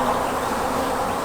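A swarm-collected honeybee colony housed in an old nuc box gives off a dense, steady buzzing of many bees, close and continuous with no pauses.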